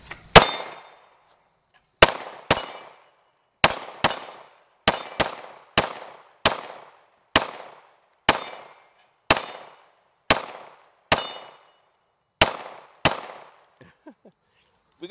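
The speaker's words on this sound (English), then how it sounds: "Let's do some shooting." A PSA Dagger 9mm pistol fires about sixteen sharp, loud shots outdoors in irregular pairs and singles, each crack followed by a short decaying echo, with a few faint clicks at the end.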